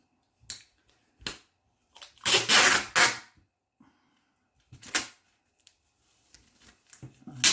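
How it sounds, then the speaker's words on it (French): Several sharp snipping bursts of scissors cutting through tape, spaced irregularly with a cluster of quick cuts in the middle, close and fairly loud. "Et je vais passer les ciseaux"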